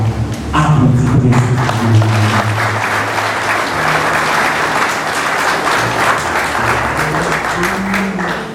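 A church congregation claps together in a sustained round of applause, loud and steady for several seconds, with a few voices murmuring underneath.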